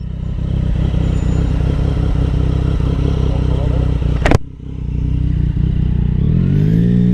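Motorcycle engine dying while riding, a loud, steady close engine drone with clatter that drops away suddenly after a sharp burst, leaving wind and road noise as the sound settles and a rising whine appears near the end.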